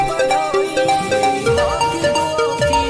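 A mobile phone name ringtone plays a bright, looping electronic melody with a steady pulsing beat, loud and close, with no voice.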